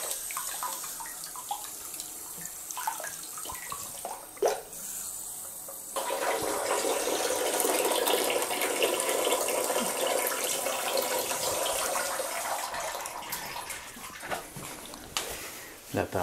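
Water runs steadily from a tap into a bathtub while its overflow plumbing is tested, a broad close rushing that starts abruptly and continues for about ten seconds, with a few knocks around it and no speech.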